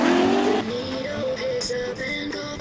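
Drift car spinning out onto the infield during a competition, tires squealing loudly with a sliding engine whine that shifts pitch as it skids, dense and continuous throughout.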